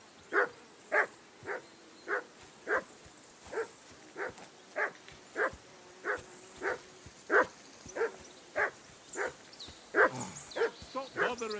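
A dog barks repeatedly in Kingdom Come: Deliverance 2, steady evenly spaced barks at moderate distance with a few quicker yips near the end, over faint outdoor ambience.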